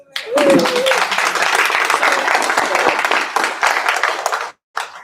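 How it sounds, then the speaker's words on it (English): At a panel event, a room of attendees breaks into enthusiastic applause, with a brief voice at the start, then dense, close clapping that stops abruptly near the end, followed by a short final burst. "Another round of applause for Opa."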